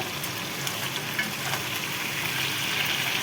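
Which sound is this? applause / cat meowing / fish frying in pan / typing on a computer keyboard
fish frying in pan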